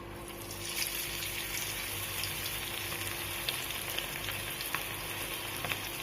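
Pieces of homemade KFC-style chicken fry in hot oil over a low flame, giving a steady, close crackling sizzle with scattered sharp pops throughout and no talking.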